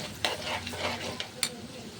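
Bay leaves, salt, chili powder and turmeric frying in oil for a curry, a steady close sizzle with a few sharp scrapes of a spoon stirring the pan.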